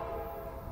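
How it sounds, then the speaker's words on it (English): An Amtrak Capital Corridor passenger train arriving at Richmond station sounds its horn in one brief steady blast over the low rumble of the train. "here comes Amtrak Capital Corridor train 736"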